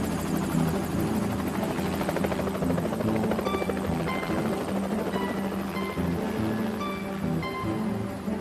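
Rotor noise from a cartoon helicopter in a German Teletubbies episode beats loudly and continuously throughout, with a rapid whirring chop and faint tonal chimes layered on top.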